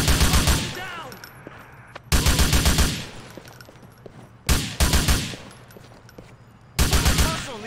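Bursts of gunfire from the video game Grand Theft Auto IV come in four loud rapid volleys, each a dense chatter of shots lasting about a second, separated by quieter stretches with shouted voices and background noise.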